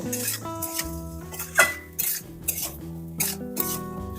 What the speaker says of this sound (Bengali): সবকিছু তেলে ভালোভাবে কষিয়ে নেব